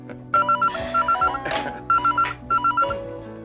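A telephone rings in a Hindi TV serial scene, a warbling electronic trill in repeated bursts with short pauses, loud and close over a faint background hum.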